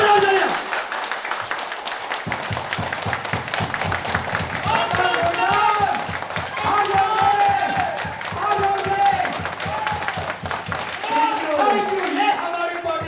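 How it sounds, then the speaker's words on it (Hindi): A seminar audience at a business success event in a hotel in Dwarka, Darbhanga, Bihar, breaks into sustained loud clapping, mixed with voices and talk over the top. "जोरदार तालियां"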